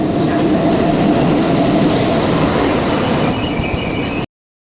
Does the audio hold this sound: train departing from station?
yes